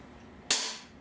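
A mini crossbow fires once, a single sharp snap that rings out briefly up close after a quiet moment.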